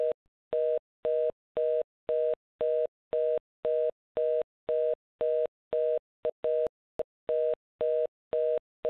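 Repeated telephone line tone heard while a phone conference is being started, sounding as steady, evenly spaced beeps of equal length, about twenty in a row, clear and alone with no voices.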